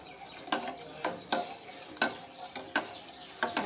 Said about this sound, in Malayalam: എന്നിട്ട് എടുക്കാതെ ഇളക്കണം ഇളക്കിക്കൊണ്ട് തന്നെ ഇരിക്കണേ കട്ട പിടിക്കരുത്